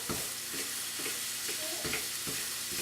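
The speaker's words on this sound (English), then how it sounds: "So let me just get this mixed up real good and broken down." Ingredients being mixed and broken down in a bowl, with regular scraping strokes about twice a second over a constant hissy background.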